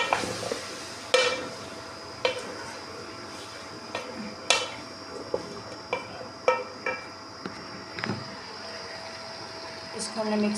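Chicken and vegetables are stirred in a pot for a tindi chicken recipe, with intermittent sharp clinks of a spoon against metal over a quiet background hum.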